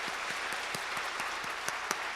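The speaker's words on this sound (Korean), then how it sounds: "우리 하나님께 영광의 박수 올려드립니다" A congregation at a Korean church's early-morning revival service applauds together, a steady wash of clapping with a few sharper individual claps standing out, with no voices over it.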